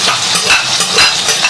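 Homemade hotpot base stir-fried with scallion and garlic in oil until red oil forms, giving a steady close sizzle with scraping stirring throughout, no talk.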